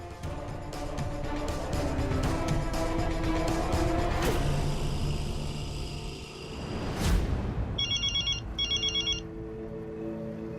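Telephone ringtone in a Hindi television drama, two short bursts of electronic ringing near the end that follow a passing car and ambient noise.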